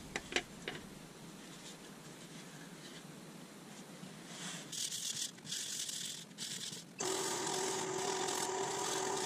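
Abrasive hiss of superfine paper sanding a spinning sapele wood plate on a lathe, faint at first, then louder and steadier as the lathe revs up, with a steady whine in the last couple of seconds.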